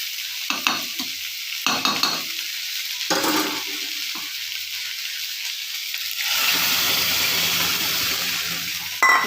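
Lentils (dal) added to a hot pan for a drumstick-leaf recipe, with a frying hiss and bursts of stirring scrapes that swell into a steadier, louder sizzle toward the end. No one talks.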